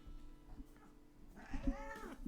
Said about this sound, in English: Wow, cats!